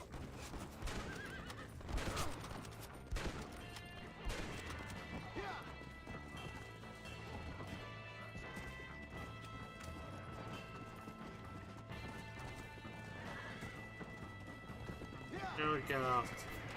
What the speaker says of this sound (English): Now we'll have our horse following us.